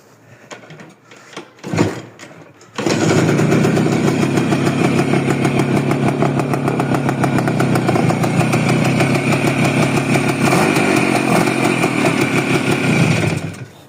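A Minsk motorcycle engine is kicked over a couple of times, then starts and runs with a loud, steady two-stroke putter close by for about eleven seconds before cutting off.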